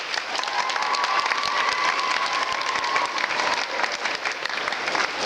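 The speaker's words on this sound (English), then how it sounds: "so let's give her a clap." An audience of parents and relatives gives a sustained round of clapping, with some cheering and a thin whistle-like tone mixed in, continuing loudly and evenly throughout.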